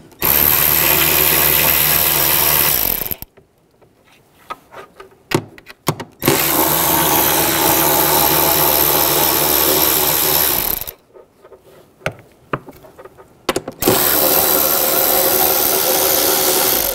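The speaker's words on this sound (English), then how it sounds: "Using a 8mm socket," A ratchet with an 8mm socket works the tail light nuts on a 2006-2009 Mercedes-Benz E350, with loud, dense bursts of clicking that stop twice for quieter handling noises. No one speaks.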